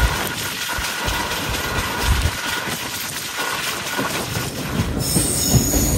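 The Tirupati–Villupuram Express cruises at about 94 km/h toward Chandragiri station, a loud continuous rumble of wheels on rails with a sustained high squeal running throughout.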